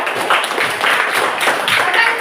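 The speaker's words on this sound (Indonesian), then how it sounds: "Beri tepuk tangan." A classroom of students claps together in a brief, steady burst of many hands, fairly close and filling the room.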